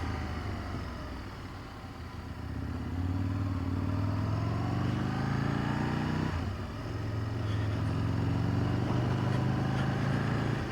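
Aprilia RSV1000R motorcycle ridden with a 16-tooth front sprocket, a continuous engine drone that climbs through the revs, dips briefly at a gear change, then pulls again, steady and fairly loud under rushing wind.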